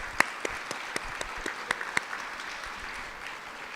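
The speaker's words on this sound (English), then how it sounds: "So if we could just give them a round of applause." At a school athletic awards event, an audience claps for middle school athletes, with scattered sharp claps standing out over a softer wash that thins out toward the end.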